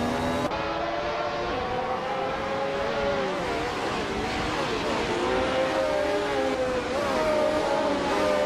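Video game race start with a classic 1975 Ferrari 312 and other cars: a continuous loud engine roar with rising and falling whining pitch, an announcer talking over it.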